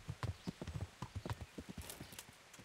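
A horse's hooves clip-clop in a quick, even rhythm in the game Kingdom Come: Deliverance, a steady run of distinct close thuds with no talk over them.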